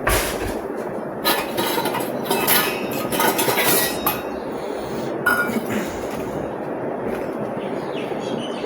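Ceramic saucer and dishes handled in a home kitchen while tea is made, giving scattered clinks and light knocks of crockery. Several bright taps are close and clear over a soft background hiss, with no talking.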